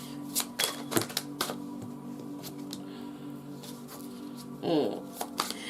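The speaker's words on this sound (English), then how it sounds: "Let me pull some tarot about Pardi." Tarot cards shuffled by hand, giving rapid papery riffles and crisp clicks in short bursts over a steady low background hum.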